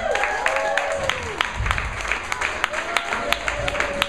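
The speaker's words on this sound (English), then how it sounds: "Give her a round of applause." Audience applause at a comedy radio show premiere, with sparse, distinct claps rising and falling and a few voices talking and calling out over them.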